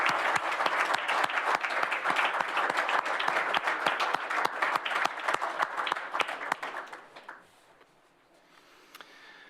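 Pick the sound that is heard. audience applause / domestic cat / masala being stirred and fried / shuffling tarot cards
audience applause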